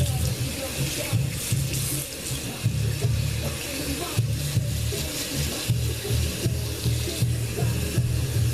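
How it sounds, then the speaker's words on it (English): Water running steadily from a tap at home while hair is being washed, a constant splashing rush close by, with a low hum beneath and occasional talk. "I'm just gonna let a little bit of cold water"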